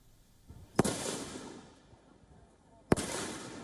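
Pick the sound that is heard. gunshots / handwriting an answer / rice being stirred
gunshots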